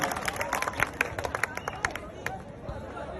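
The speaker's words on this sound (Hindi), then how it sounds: "जोरदार तालियां बजा करके हर्ष ठकारा जी को आमंत्रित करता हूं।" A crowd claps and cheers in a busy burst of applause, dense and lively at first, then thinning out amid chatter.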